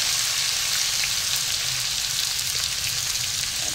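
Pork sautéing in a pan for estofado gives a steady, dense sizzle and crackle that holds even and close throughout, with no talking.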